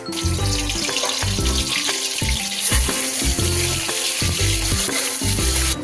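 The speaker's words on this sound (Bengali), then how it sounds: "দিচ্ছি সর্ষের তেল এবং মাছগুলোকে আমি আস্তে আস্তে ভেজে নেব।" Prawns sizzle steadily in hot mustard oil in a wok, a continuous close crackling hiss over a rhythmic low thumping background beat.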